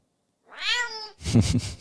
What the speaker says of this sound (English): I recorded a little bit of my cat and pitched it a little bit